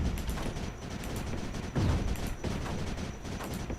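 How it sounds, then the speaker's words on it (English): Cannons firing in the space combat video game Space Crew, heard as a rapid rattling burst of shots like machine-gun fire with a heavier thump midway, fairly faint and with no talk. "They actually sound like machine guns more than cannons."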